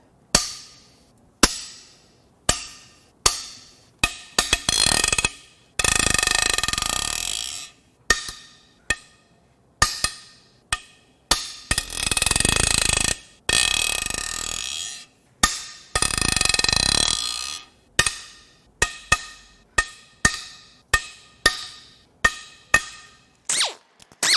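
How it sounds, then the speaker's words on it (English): Torx head bolts on a BMW N54 twin-turbo cylinder head broken loose by hand, giving a string of about twenty sharp, loud cracks and clicks with several longer grinding ratchet bursts between them, close up and with no talk. "Time to crack the head bolts loose."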